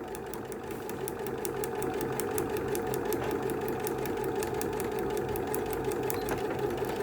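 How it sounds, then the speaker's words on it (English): A sewing machine runs steadily, stitching across quilt pieces with a fast, even needle rattle and a continuous motor hum, close and moderately quiet, with no voices. "Lower the presser foot and sew across."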